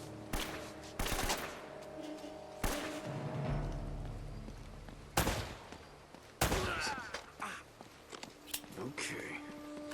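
Gunshots in Uncharted: Drake's Fortune, several sharp separate bangs spaced over a few seconds with impacts and rumbling game effects, and a player talking quietly in between.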